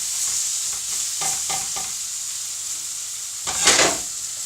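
Caribbean chicken sizzles steadily in a hot pan, a constant frying hiss with a few stirring scrapes and a louder burst of spitting as the pieces are turned over near the end.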